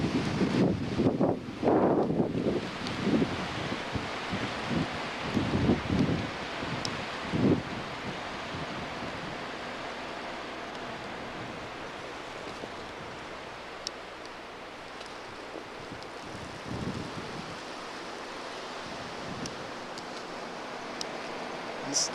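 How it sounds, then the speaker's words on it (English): Strong wind during a blizzard in Marietta, Georgia, roaring in heavy gusts against the microphone, loudest early and then settling into a steady lower rush with occasional bursts. "how bad the wind blows"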